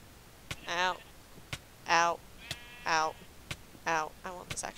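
Four evenly spaced sheep bleats from Minecraft, each a wavering nasal baa about a second long, with faint clicks between them.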